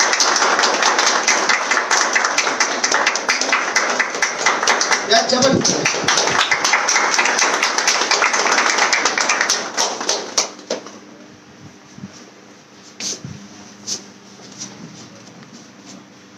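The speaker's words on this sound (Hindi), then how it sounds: "तालियां होनी चाहिए। तालियां जबरदस्त स्वागत।" A hall audience welcomes a guest with loud, dense applause that lasts about ten seconds, then thins to a few scattered claps as someone speaks briefly.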